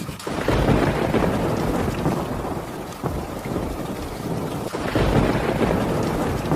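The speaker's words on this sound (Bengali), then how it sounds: "বৃষ্টি শুরু হলো তো" Cartoon rain and thunder effect: steady heavy rain on a surface with deep rolling thunder swelling and fading, loud and close, no voices.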